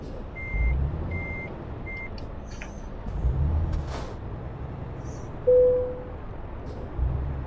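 A truck's reversing beeper in Euro Truck Simulator 2 sounds three steady electronic beeps over a low engine rumble, followed later by a brief hiss like an air brake.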